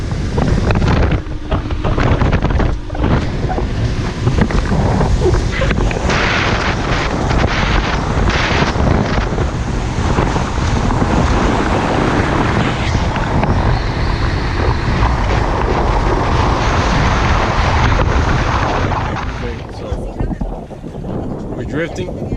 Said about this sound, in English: The conditions today are bad. It's like the wind is blowing one way, the wind is another direction, everything is bad.